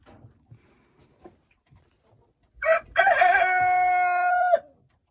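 A rooster in a chicken enclosure gives one loud, close crow that rises sharply and holds steady for almost two seconds, after scattered soft clucks and rustling.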